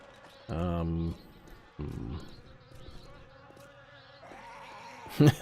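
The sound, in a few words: swarm of bees buzzing in video game 7 Days to Die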